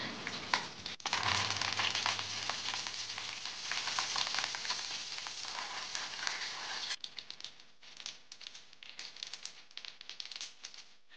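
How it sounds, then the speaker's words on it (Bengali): Cumin, mustard seeds and curry leaves tempered in hot oil, a dense close sizzle and crackle that softens into sparse spitting pops toward the end, with no voices. "আর এখন আমি তেলের মধ্যে অল্প একটু ফোড়ন দিয়ে নিচ্ছি"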